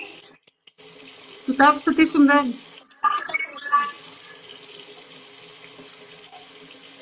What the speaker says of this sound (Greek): Μόλις ξαναρίξεις μπόλικο νεράκι,